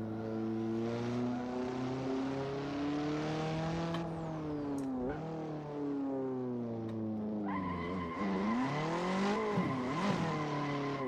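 Car drifting through a gymkhana course in the Assetto Corsa racing game, engine revving up and down with long, wavering tire squeals and skids, a sharp high screech joining in near the end.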